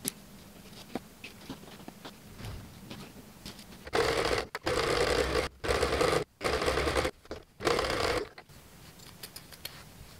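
A sewing machine runs around a jacket collar in several short bursts during the second half, each a steady loud whir broken by brief stops, after quieter handling sounds.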